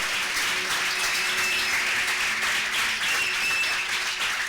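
A church congregation applauds in praise during a Spanish-language sermon, a steady, dense wash of clapping that holds evenly for several seconds with no voices over it.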